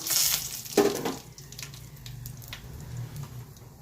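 Five-spice and nuts sizzle in white oil in a pan, with a brief crackling burst at the start, then a steady soft frying hiss that carries on alone.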